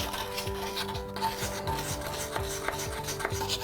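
A wet pumice stone scrubs a stain inside a toilet bowl, making steady, rhythmic rasping strokes about twice a second. The gritty rubbing is close and even, with no talking.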